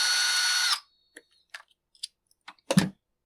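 A power tool loosens the muffler on an Echo CS620P chainsaw during a tune-up: one steady, close whirring burst lasting under a second, then a few short metallic clicks and a final louder clatter.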